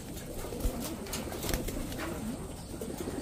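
Pigeons kept as flyers coo softly outdoors as they come down to land, with a low, repeated cooing under faint background noise and a few soft thumps.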